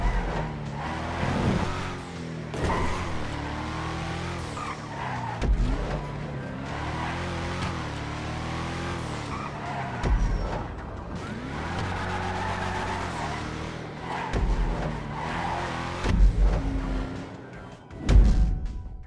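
Declasse Yosemite pickup with turbocharged engines in a racing video game, engine revving and shifting through gears repeatedly, with tire squeal, at moderate loudness over a long stretch.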